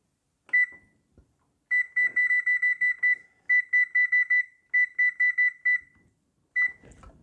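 Kitchen oven timer beeping in quick bursts of high, clear electronic tones, repeated in several spaced groups, fairly loud and alone apart from a few faint handling noises.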